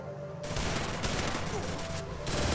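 Gunfire in a shooting video game 1v1 match, fast dense bursts of automatic shots that run almost continuously and loudly for a couple of seconds, close up.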